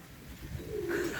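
Racing pigeon giving a single soft, low coo, brief and fairly close against quiet background.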